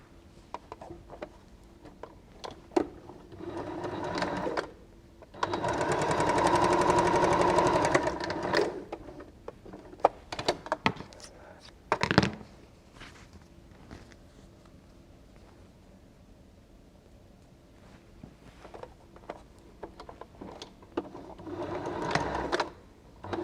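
A sewing machine stitches quilt seams in short bursts: a few quick whirs, a sustained run of steady mechanical chatter for several seconds, then scattered brief runs and clicks, close and fairly quiet.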